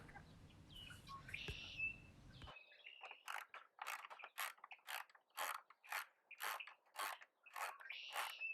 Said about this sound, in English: And then we'll remove the bottom bolt